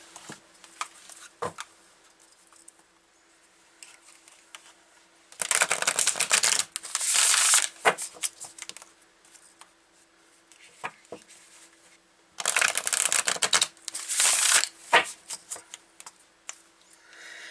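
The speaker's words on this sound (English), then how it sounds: "I'm going to pull some more from the cards of Sacred Destiny" Oracle cards being shuffled by hand in two long bursts of dense riffling and papery slaps, with a few isolated card taps in between, close and clear against a quiet room.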